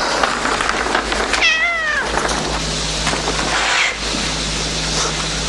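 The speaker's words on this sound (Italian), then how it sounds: "Guardi, ma chi te l'ha dato questo gatto?" A cat meows loudly and close by, a few drawn-out wavering cries over a steady background hum, in an Italian film scene.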